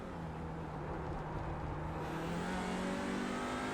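In the iRacing sim at Red Bull Ring, an Audi RS 3 LMS TCR race car stays in fifth gear, its engine droning steadily and rising slowly in pitch as it pulls, with no voices over it.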